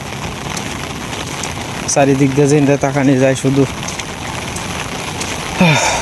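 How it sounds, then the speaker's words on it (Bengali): Light drizzling rain falling steadily outdoors near rising floodwater, a constant soft hiss heard throughout while someone speaks for a couple of seconds over it. "বৃষ্টিটা আপনার নিমি নিমি বৃষ্টি আছে বৃষ্টি আর থামে কথা কইতেছে না"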